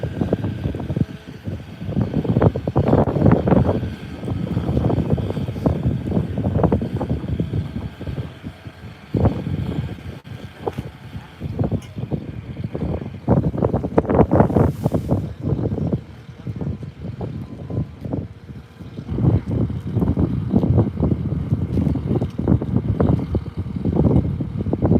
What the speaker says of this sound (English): Oh, the wind is so cold right now.